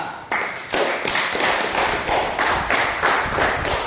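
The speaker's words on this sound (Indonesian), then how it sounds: "tepuk tangan kelompok 2" Classroom applause for a student group during a teaching performance assessment: rhythmic, patterned clapping in steady unison beats, close and fairly loud, with no talk over it.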